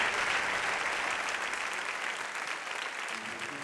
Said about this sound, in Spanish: Su aplauso a Jesús.